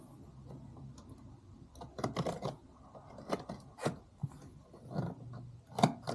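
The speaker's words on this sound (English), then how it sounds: "cut open the bottom of the box like" A cardboard box bottom being cut open while unboxing a Begode ET Max electric unicycle, a string of close scratchy cutting and ripping sounds in uneven bursts, with a sharp snap near the end.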